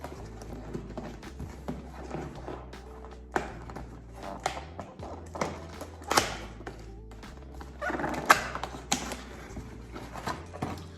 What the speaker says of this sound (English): I'm just gonna go ahead and unbox this first.